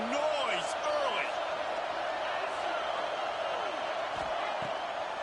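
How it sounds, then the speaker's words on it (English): Stadium crowd noise in an NCAA college football video game, a steady roar with faint whoops and cheers throughout, fairly quiet and continuous without a clear break. "This crowd bringing the energy and noise early."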